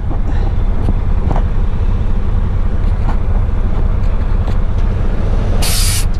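A heavy haul truck pulling away, its engine a loud, steady rumble with hissing air and a sharp burst of release near the end.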